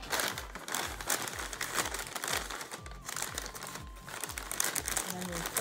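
Sheets of recycled paper or newspaper crinkle and crumple steadily as they are pushed inside an open paper bag, a close, busy rustle lasting throughout with small crunches and tears.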